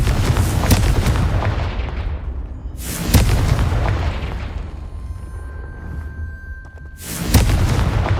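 Confringo, a fiery explosive spell in Hogwarts Legacy, detonates in three heavy booming blasts spaced a few seconds apart, each loud and sharp with a rumbling decay, alone without talk.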